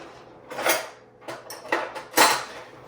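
A metal spoon scrapes leftover buffalo sauce around a pan in three or four short, loud strokes, close by with brief pauses between.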